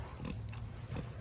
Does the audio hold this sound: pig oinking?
yes